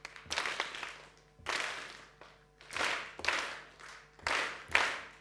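A group claps short notes with their palms during a music class, giving several brief bursts of clapping in an uneven rhythm, each lasting under a second, with short gaps between them.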